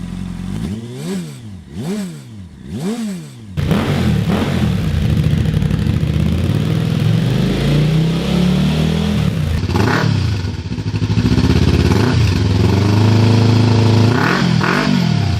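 A sportbike with an aftermarket Two Brothers Racing exhaust revs hard several times in sharp bursts, then roars steadily with more rising and falling throttle blips, loud and close.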